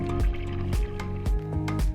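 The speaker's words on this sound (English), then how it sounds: "Just fill the container with tap water" Tap water pouring into the container of an Ultimaker PVA removal station, a close, loud run of gurgling, splashing fill sounds broken into several short bursts.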